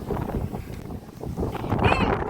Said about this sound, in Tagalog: Sobrang mahangin dito ngayon.